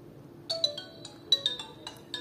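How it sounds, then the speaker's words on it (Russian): A Nokia 105 mobile phone plays a bright 32-tone polyphonic ringtone, a quick melody of chiming notes in short clustered bursts, close and clear with no talking. "Давайте послушаем эту 32-тональную полифонию."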